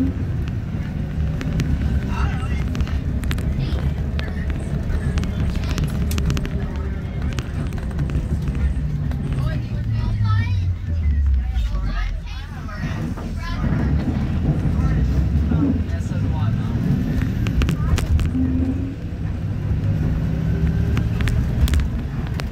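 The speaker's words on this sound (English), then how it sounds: "This bus is kind of bumpy." Inside a 2021 Blue Bird Vision school bus, a heavy engine drone and road rumble run continuously, with the pitch rising and falling as the bus shifts, plus rattles and bumps. A voice talks over the ride.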